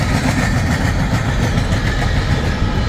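A BNSF coal train rolls past close by with a loud, steady rumble and roar, constant throughout with no voices.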